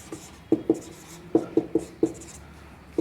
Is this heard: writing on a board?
yes